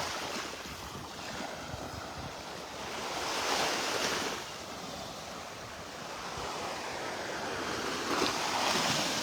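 Surf rolls onto an empty beach at North Naples, Florida, with a constant broad wash that swells now and then as waves break, and wind buffets the microphone throughout.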